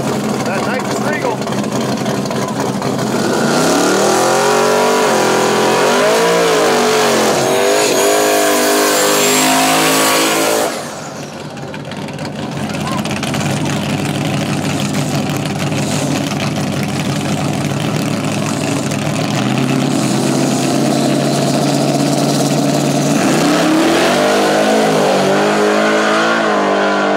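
Turbocharged LS-powered Fox body racing at a no-prep drag strip event, loud engines revving and accelerating with rising pitch sweeps, a brief drop, then more roaring, under an announcer's voice.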